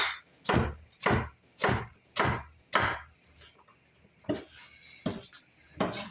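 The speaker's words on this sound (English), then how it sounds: "I'm going to slice this onion into little diced pieces." A knife dices an onion on a cutting board with about ten crisp, evenly spaced chops, close and clear, with no talking.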